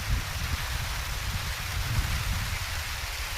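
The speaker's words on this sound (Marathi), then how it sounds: "पाऊस चालू झालो आहे" Rain falls on an outdoor tomato plot, a steady broadband hiss with a low rumbling undertone, close and continuous and without talk.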